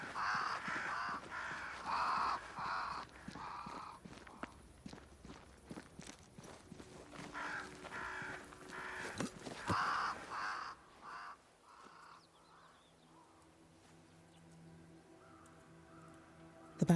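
Crows caw repeatedly in a game forest scene near a great tree in Banishers: Ghosts of New Eden, harsh calls recurring over footsteps and ambient rustle, thinning to a quieter low drone toward the end.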